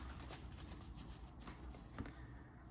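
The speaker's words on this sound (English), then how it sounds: "just to show you guys the process of shuffling this 60 card deck" Soft, close riffling and rustling of a 60-card Yugioh deck being shuffled in quick repeated bursts, faint and without talking.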